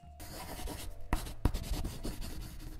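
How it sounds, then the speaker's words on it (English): A pen scratches as something is written down by hand, a close, dry rubbing and scribbling that runs in short irregular strokes for a few seconds. "let me write that down"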